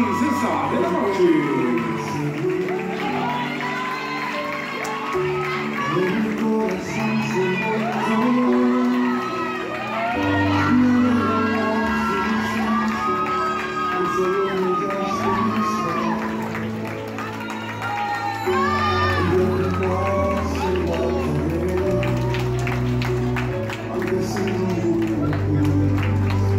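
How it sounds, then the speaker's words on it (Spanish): Applause and cheers from a party crowd greet Karen at her quinceañera, with music playing throughout and voices mixed into the steady, loud festive din. "Y que se escuchen más fuertes los aplausos para Karen, nuestra princesa de la noche."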